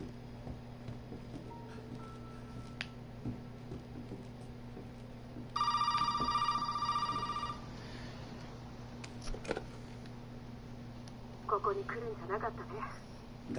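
A telephone rings in Resident Evil 7, a short electronic trill standing out over a steady low background hum, with scattered faint clicks and a brief quieter warble later on.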